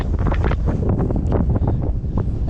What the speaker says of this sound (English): here comes the horrifyingly high wind